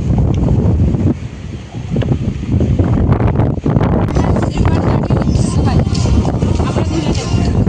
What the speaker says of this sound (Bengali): এখানে নদীটা দেখো প্রচণ্ড হাওয়া হচ্ছে